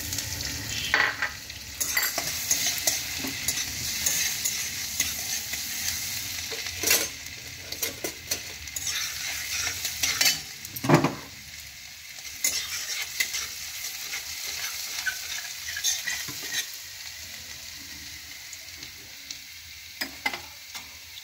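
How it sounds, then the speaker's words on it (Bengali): Ginger and garlic frying in a pan with stirring, a steady close sizzle broken by scrapes and clinks of a utensil against the pan. "এবার দেব আমি আদা রসুন, এটা সাম্বারের মধ্যে দিয়ে দিলাম।"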